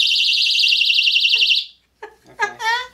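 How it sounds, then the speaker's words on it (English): A personal alarm keychain set off by pulling its plug emits a loud, piercing warbling siren for about a second and a half, then stops abruptly, followed by brief voices. "Got some kind of alarm."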